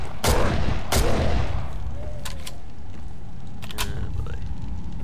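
Two sharp, loud gunshots in Condemned: Criminal Origins crack in quick succession near the start, followed later by a few fainter clicks and a lighter pop against a low, murky background.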